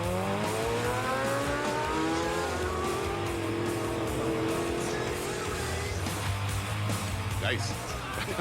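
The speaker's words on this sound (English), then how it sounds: "V8 American engines" A classic American car with a V8 engine, in Cuba, revs with a loud, sustained rumble whose pitch climbs and falls over several seconds, with faint voices in the background.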